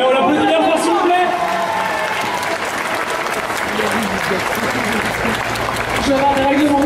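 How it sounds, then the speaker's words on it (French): An audience at an indoor cosplay contest claps loudly and steadily, broad crowd applause mixed with cheering, while a voice talks over it at the start and end. "on l'applaudit bien fort, s'il vous plaît"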